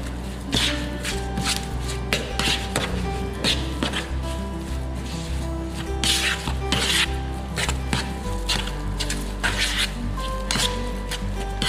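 Spoon stirring a somay fish-paste mixture with celery leaves mixed in, giving steady close rubbing and scraping strokes against a bowl, repeated in an uneven rhythm with no talking.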